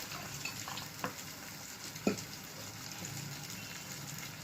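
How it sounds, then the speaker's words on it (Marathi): Masala and water for a mackerel curry are stirred in a pan, with a soft, continuous wet swishing and a few sharper spoon knocks against the metal, close and quiet, with no voices. "चांगला मसाला ढवळून घ्या जेणेकरून त्याच्या गुठळ्या राहणार नाही"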